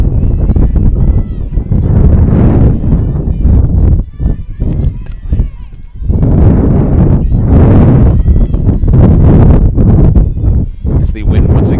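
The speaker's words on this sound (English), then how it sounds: "As the wind once again kicking up here." Wind gusts buffet the microphone at an outdoor college softball game, Manhattanville against FDU-Florham, a loud, broad rushing roar that swells and drops in waves with brief lulls, mixed with crowd and field noise.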